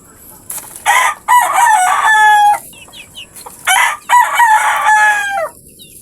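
Two loud rooster crows from a one-month-old pet chicken with limberneck, one after another, each a long rising-and-falling call standing clear on their own, with a few softer clucks in between.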